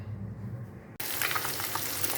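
Fish pieces fry in a pan. After a quieter hum, a loud, steady oil sizzle starts abruptly and keeps going without talk.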